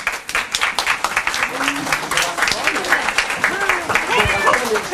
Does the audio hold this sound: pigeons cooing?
no